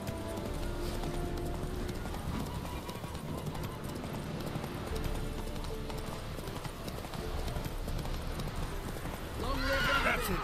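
A horse gallops in The Witcher 3 with a steady run of clip-clopping hooves under dense game ambience, and a loud whinny bursts out near the end.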